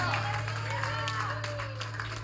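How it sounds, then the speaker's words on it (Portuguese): Church congregation clapping during an evening worship service, a steady wash of hands under a sustained musical drone and voices. "Aplauda o Senhor nessa noite."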